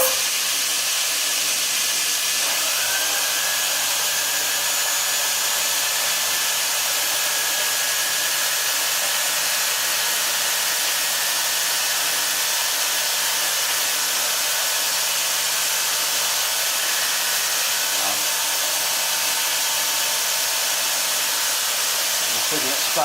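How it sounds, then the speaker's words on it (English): Tool post grinder on a lathe grinding the face of a 4-jaw chuck, taking off a fraction of a millimetre; a steady, hissing whine of the spinning wheel that holds evenly throughout. "the face on the tool post grinder was a long way out, so I've had to grind this"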